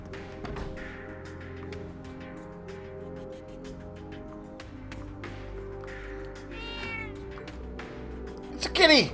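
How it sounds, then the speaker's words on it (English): A cat meows several times in Trails of Cold Steel III, short clear calls rising over quiet game music, with a louder meow near the end. "It's a kitty!"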